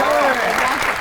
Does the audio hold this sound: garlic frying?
no